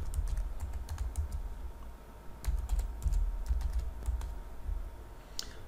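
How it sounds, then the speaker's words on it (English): Steady typing on a computer keyboard while entering an IP address into a storage appliance configuration screen, a close run of quick key clicks over a low background hum. "I'm going to put the IP address of the appliance"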